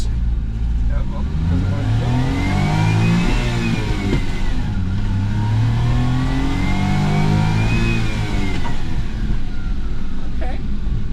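Suzuki Carry mini truck with no catalytic converter, engine revving steadily while driving, rising and falling in pitch twice, loud and continuous, with a voice speaking over it.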